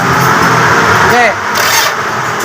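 Toyota Alphard with a strong battery but an engine that starts hard when hot, cranking loudly and struggling to catch before settling into a rough idle, with people talking nearby.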